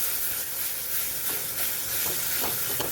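Yardlong bean mash fries in a pan with a steady, hissing sizzle, while a spoon stirs and scrapes through it in occasional soft strokes, with no talking.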